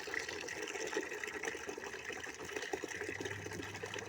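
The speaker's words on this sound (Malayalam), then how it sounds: "ഞാൻ വെള്ളം വരുന്നുണ്ട്. വെള്ളം വരും." Water runs steadily from a tap, a continuous close gushing stream that stays at an even level throughout.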